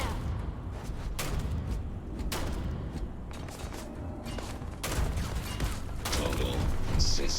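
Gunfire in the Starfield video game: a continuous, loud wash of rapid shots and impacts with occasional sharper cracks, mechanical clatter and game voices underneath throughout.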